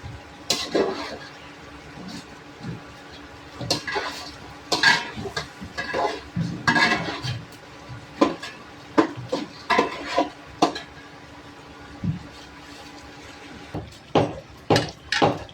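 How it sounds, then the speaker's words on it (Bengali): Rice being stirred and fried in a pot for morog polao, with repeated scraping clinks of a spoon against the metal pot in irregular bursts over a faint sizzle, close and with no talking. "আমার এইখানে ঢেকে রেখে দিয়েছিলাম চালটা, তো আমি দিয়ে দিচ্ছি। তো একটু ভাজবো।"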